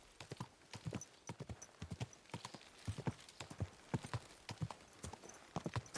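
Horse hooves clip-clop in a steady, fairly close walking rhythm, with many distinct strikes over several seconds, in the medieval game Kingdom Come: Deliverance 2.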